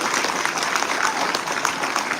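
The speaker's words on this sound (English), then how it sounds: "Give that a round of applause." Loud, sustained applause from a large crowd at a mayor's State of the City address in Atlantic City, thick and continuous clapping with faint cheering mixed in.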